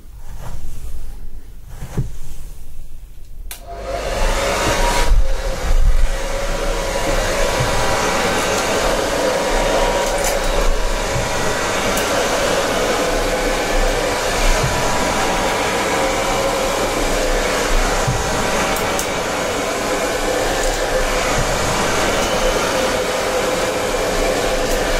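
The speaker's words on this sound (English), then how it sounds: "let's dry your hair then." A hair dryer blow-drying hair in a salon setting, roaring loud and steady after a brief start with some fumbling, continuous and close with slight airflow variations.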